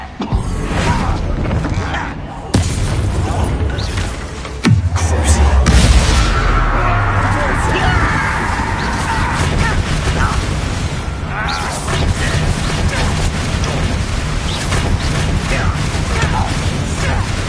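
A Bombarda blasting spell goes off in Hogwarts Legacy: a sharp crack followed by a deep rumbling boom, set against ongoing game effects and a brief voice.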